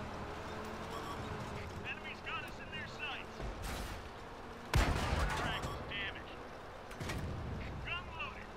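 Artillery guns firing in a World of Tanks-style tank battle game, with sharp broadband blasts around four, five and seven seconds, one much louder and closer, over steady engine rumble and game effects while someone talks.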